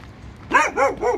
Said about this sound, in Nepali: यहाँ एउटा सानो खुल्ला छ अनि यहाँ कुकुर छ जत्तै कराउँछ